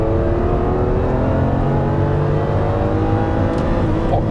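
A Ferrari Testarossa's V12 engine accelerating hard from inside the car, a loud, continuous rising drone with climbing harmonic tones and no talk.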